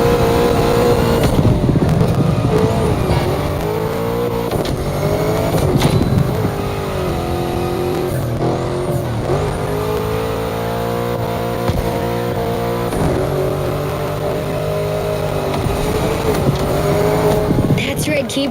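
A car drifting in The Crew Motorfest video game, its engine revving up and down in long sweeping pitches with tire squeal, loud and continuous, with voices heard over the action.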